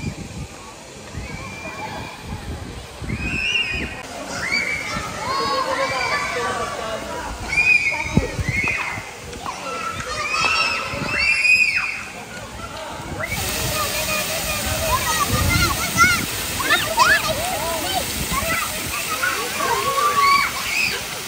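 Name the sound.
dancing water fountain at river park esplanade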